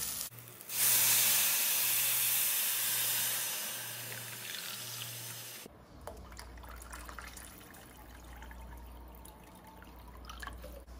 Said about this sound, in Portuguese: aqui eu dei uma refogadinha e já vou acrescentar a água